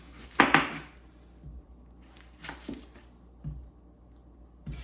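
A red onion is cut on a board with a knife, giving a few separate sharp chops and knocks spaced about a second apart, close and fairly loud, with quiet pauses in between.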